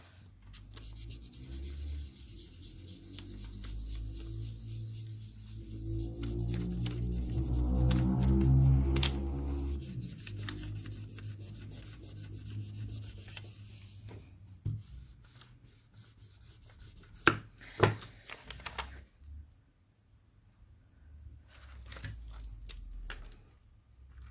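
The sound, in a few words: rubbing a groove smooth on polymer clay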